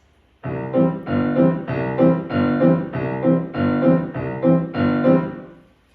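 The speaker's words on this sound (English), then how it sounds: "So polka is usually a 2/4 time signature in allegro allegretto," An upbeat polka in brisk 2/4 time, with a steady oom-pah accompaniment under a bright melody, played by an ensemble for about six seconds.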